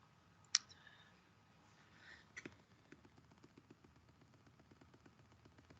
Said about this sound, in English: So you hear me clicking, can't you?